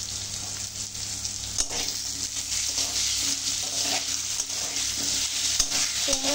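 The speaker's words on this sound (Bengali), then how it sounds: "দিয়ে দিচ্ছি নুন, দেবো হলুদ গুঁড়ো, দিয়ে আলুটাকে একটু ভালোভাবে লাল লাল করে ভেজে নেব" Potatoes fry in a pan with salt and turmeric, giving a loud, continuous sizzle broken by scraping stirs.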